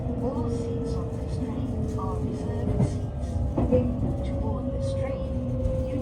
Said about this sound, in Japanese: 列車は速度を落としながら南海高野線南海本線の下を交差しました。